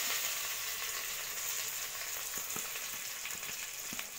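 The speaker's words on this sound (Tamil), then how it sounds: "எண்ணெய் ஊற்றிட்டு கடுகு போடணும். கடுகு போட்டதும் இஞ்சி பூண்டு வெங்காயம் போடணும்" Mustard seeds, ginger, garlic and onion fry in hot oil, giving a dense, continuous hiss and crackle with a few faint pops, close and steady for a few seconds, with no voices.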